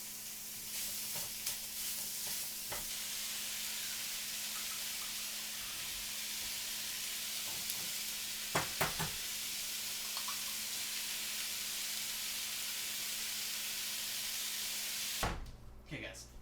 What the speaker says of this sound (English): we're gonna brown up all this chorizo